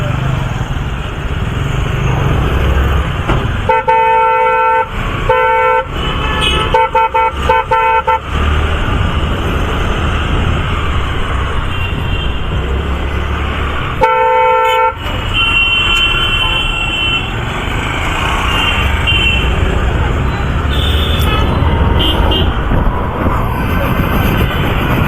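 Dense traffic jam on a road near a roundabout, with car and motorcycle engines rumbling steadily and several loud car horns honking in short bursts and longer blasts, close by and overlapping.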